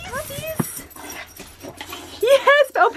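Excited puppies whimper and yip in greeting at a home meetup, with high, wavering whines rising at the start and bursting out again near the end, heard under loud, overlapping human voices.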